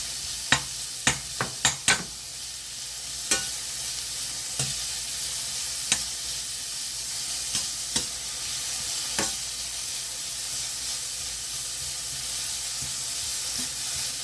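Carrots stir-fried in a pan for japchae, with a little salt: a constant bright sizzle with a quick run of sharp clacks of utensil on pan early on, then sparser taps.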